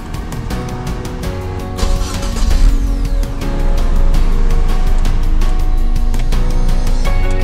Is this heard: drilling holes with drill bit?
no